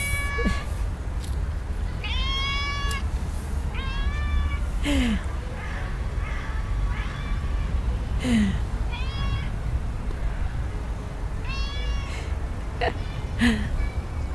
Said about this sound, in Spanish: ¡Qué gato!